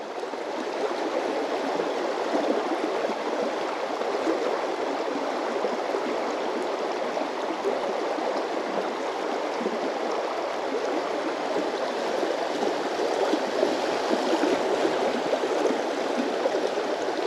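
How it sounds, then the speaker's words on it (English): The River Doon runs high after rain, giving a steady, continuous rushing of flowing water close by, even and unbroken throughout with no voices. "The river's up a wee bit, so we may push them slightly further down."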